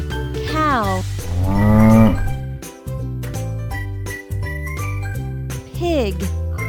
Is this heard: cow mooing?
yes